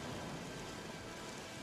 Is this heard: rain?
yes